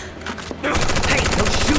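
Rapid bursts of gunfire erupt in Final Fantasy VII Remake, a dense rattling volley that starts abruptly after a quieter lead-in and keeps up steadily, loud and close, with a voice calling out beneath it.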